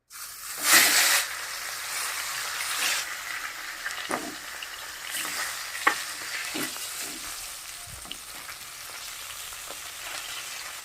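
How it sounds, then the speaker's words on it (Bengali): Fish head frying in mustard oil in a wok, a loud initial sizzle burst followed by steady crackling hiss with intermittent spatula scrapes and pops, close, no talk. "মাছের মাথাটা আমি এখন ভাজে নেব।"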